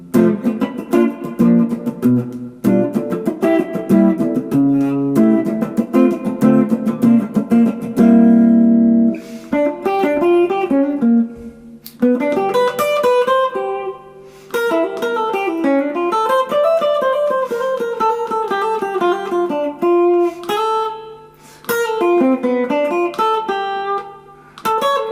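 A clean guitar plays a sequence of chords, strummed and arpeggiated in a smooth jazzy progression, alone and close.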